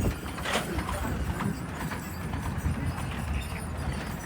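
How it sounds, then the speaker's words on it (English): Horse hooves clip-clop at a steady walking pace on a hard surface at an amusement park in the evening, surrounded by a busy outdoor crowd murmur. "More horses."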